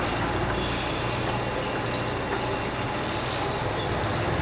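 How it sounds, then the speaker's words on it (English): Electric piston-pump airless paint sprayer flushing water out of its gun into a waste bucket, a steady, loud continuous rush of spraying liquid with no pauses. "I'm going to continue flushing until what's coming out here is nice, clear water"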